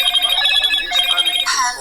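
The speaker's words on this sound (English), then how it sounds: "My phone's ringing." A phone rings loudly and close with a bright electronic ringtone, repeating tones that hold steady and then shift near the end.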